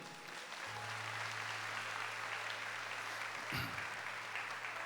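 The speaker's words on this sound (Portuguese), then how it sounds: "Vamos aplaudir?" Congregation applauding a family during a Catholic Mass, a steady sustained wash of clapping filling the whole stretch, with a low hum underneath and a brief thump near the end.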